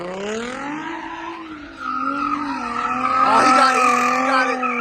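A car drifting at a car meet, tires squealing in a long wavering screech with engine roar that grows louder toward the end, while people talk and shout nearby.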